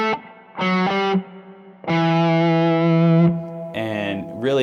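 Distorted electric guitar plays a pentatonic melody in E Aeolian, a few sustained, effect-laden notes with gaps between phrases, loud and close, ending in a quicker bend.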